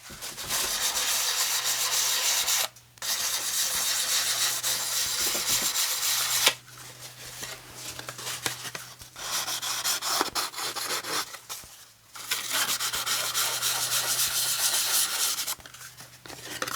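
Close, steady sanding of a thrifted item's edges to fake age, a dry abrasive rubbing that runs in long continuous bursts with a few brief pauses between strokes.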